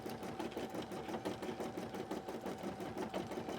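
An embroidery machine stitches a cosplay corset design, chugging in a quiet, steady, regular rhythm throughout.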